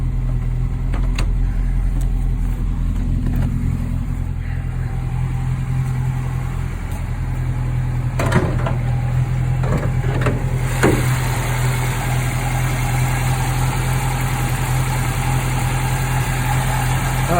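A 1980 Volvo 242 engine idles with a steady low rumble and droning vibration carried through a new exhaust into the cab, continuous throughout, with a few faint clicks and knocks over it.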